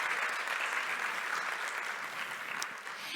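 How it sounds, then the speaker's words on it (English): A conference crowd at a developer event applauds the organizers, a steady, moderately distant wash of many hands clapping continuously with no voices on top. "they deserved some round of applause"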